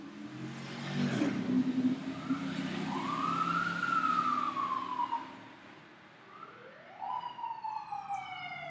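Another emergency siren approaches after others have passed, its wailing tone rising and falling, dipping briefly and then returning with a fresh, clear sweep near the end.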